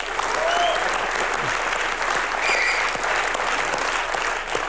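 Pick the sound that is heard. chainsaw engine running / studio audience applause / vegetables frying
studio audience applause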